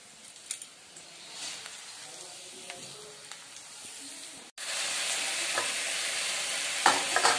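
Bitter gourd and potato fry in hot oil with a soft, steady sizzle and occasional stirring clicks. Midway the hiss jumps sharply louder and fuller, then continues as a bright, close frying crackle.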